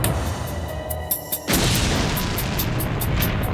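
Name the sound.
package bomb explosion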